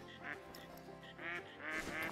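Green-winged teal ducks quack close by in short raspy bursts, several calls spaced across the moment and growing louder toward the end, with no talking.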